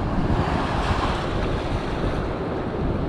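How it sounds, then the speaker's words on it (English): Rough ocean surf breaks along a beach shoreline, a steady, loud roar of churning waves mixed with wind buffeting the microphone, continuous and close with no voices. "the surf here is pretty rough"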